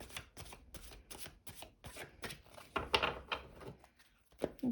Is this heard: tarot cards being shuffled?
yes